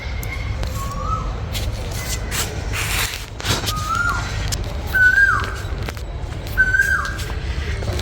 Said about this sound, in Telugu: పక్షులు చూడండి పక్కన అరుస్తూ ఉన్నాయి.